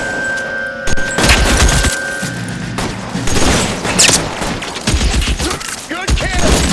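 Loud gunfire in the video game L.A. Noire, a crackling volley of close shots and booming impacts packed tightly together, with a shout cutting in amid the barrage.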